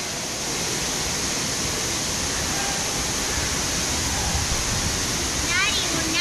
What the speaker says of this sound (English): Watch, here comes the big waves.